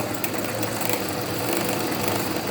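A typical sewing machine runs steadily while winding the bobbin, giving a continuous close-up whirring hum with no breaks and no talking.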